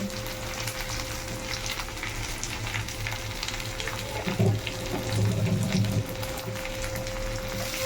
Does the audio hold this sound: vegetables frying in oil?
yes